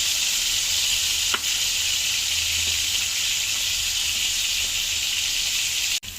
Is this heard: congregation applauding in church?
no